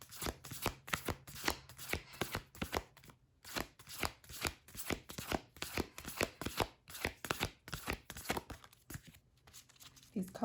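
Smooth tarot cards are shuffled and drawn in a rapid, steady series of crisp riffling flicks and slaps, close and fairly quiet, with a few short pauses and a brief soft voice near the end.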